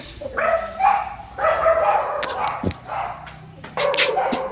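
A dog barks in short, loud yelps and whining cries close by, in bursts with brief pauses, at a house being visited, while people talk softly in the background.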